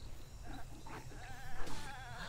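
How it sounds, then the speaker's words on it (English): A goat in the Breath of the Wild video game bleats faintly in a few wavering calls over a steady, noisy game background. "Oh, he killed a goat!"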